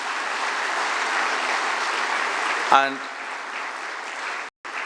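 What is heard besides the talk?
audience applause for new students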